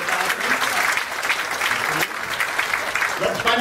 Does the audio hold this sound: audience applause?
yes